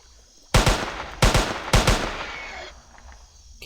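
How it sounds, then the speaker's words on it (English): SMG gunfire in the video game Jurassic Park Hunter Legends: three sharp, loud bursts of rapid shots about half a second apart, each trailing into a short echo, with a quiet background between. "Oh no, bring out the SMG."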